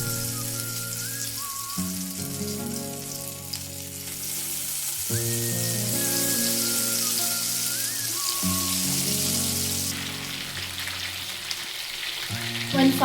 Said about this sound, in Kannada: ಇವಾಗ ಮಶ್ರೂಮು ಮ್ಯಾರಿನೇಟ್ ಆಗಿದೆ ಅಲ್ವಾ, ಅದನ್ನು ನಿಧಾನವಾಗಿ ಈ ಥರ ಬಿಡಿ ಎಣ್ಣೆಗೆ